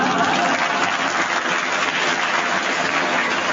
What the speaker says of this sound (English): The audience applause convinces me that you have a correct challenge